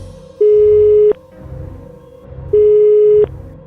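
Telephone ringback signal on a call, two long steady electronic tones separated by a pause, loud and close with faint background sound between them.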